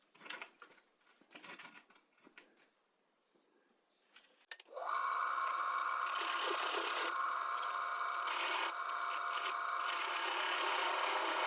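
A wooden pipe spinning on a wood lathe while a tenon is cut for the jaw chuck: a few soft knocks and rubs, then a loud, steady whirring hum with tool scraping that continues to the end.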